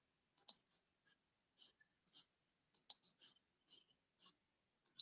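Sparse, crisp clicks of a computer mouse, single and double presses spaced irregularly in an otherwise quiet room, with no speech.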